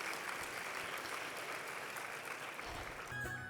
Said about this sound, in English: please give yourself a round of applause for everything you've done